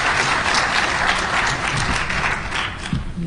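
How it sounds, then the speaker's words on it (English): Dense, steady applause from a conference audience at a hacker convention talk, loud and close, filling the whole moment with no speech. "Applause!"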